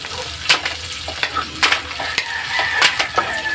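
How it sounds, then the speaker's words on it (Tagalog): Shellfish and malunggay leaves sauté in a hot pan with a steady sizzle under repeated scraping stirs of a utensil against the metal, close and fairly loud. "Gisa-gisa lang ng konti."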